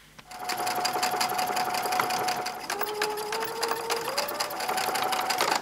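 A sewing machine runs steadily, stitching quilt fabric strips with a 7 mm seam allowance: a fast, even mechanical whir with a rapid needle chatter and a brief change in motor pitch partway through.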